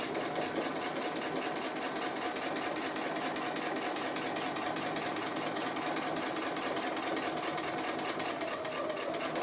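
A sewing machine runs steadily while stitching around the edge of a bobbin-shaped applique piece, a continuous close mechanical whir with fast, even needle rhythm and no pauses.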